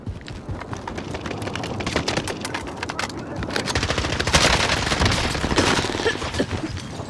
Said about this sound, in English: There's a team sniping right here, sounds like.